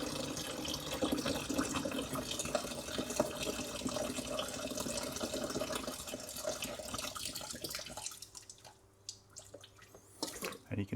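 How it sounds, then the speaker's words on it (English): Hop tea pouring steadily into a homebrew beer fermenter, a continuous watery splash that thins out and stops near the end, leaving faint clinks and quiet. "Pour our hop tea in."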